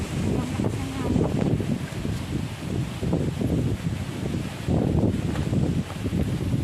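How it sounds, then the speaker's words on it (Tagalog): Strong wind gusts across an outdoor spot where spicy paksiw na bangus (milkfish) is being cooked, a steady loud rush and buffeting of the microphone with rustling, broken by several louder surges. "Grabing lakas ng hangin."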